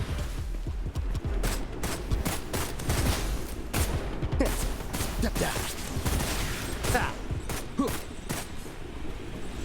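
Gunfire in the video game Wuthering Waves during a Jiyan companion quest, a dense, loud stream of rapid shots and mechanical clatter that barely pauses, with speech mixed in.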